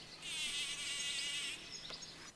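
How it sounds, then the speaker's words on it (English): A bumblebee buzzes on a rose in a flower garden, giving a loud, close, steady drone that holds for over a second and then drops away to quiet. "And another buzzes on a rose."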